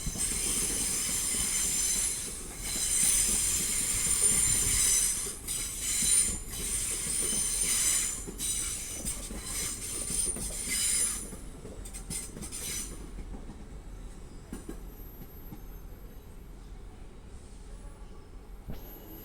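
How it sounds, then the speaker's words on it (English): Northern passenger train from Sheffield pulling into Doncaster station on the East Coast Main Line, a steady rolling rumble with wheel squeal and hiss that eases off and fades as it slows. "coming in down there is a northern service from Sheffield to Wadwick"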